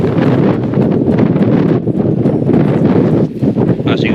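Strong, steady wind batters a tent on a hilly coast in winter, a loud continuous rumbling buffet of fabric and gusts with no pauses, close to the microphone.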